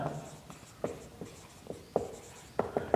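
Pen strokes on paper while the words osmotic pressure are written, a series of short scratchy taps and strokes in an uneven rhythm, close and clear with no talking.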